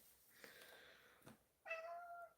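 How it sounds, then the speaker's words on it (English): A cat gives a couple of short, quiet meows, the second one clearer and more tonal, in an otherwise hushed room. "Will you stop with the constant meowing?"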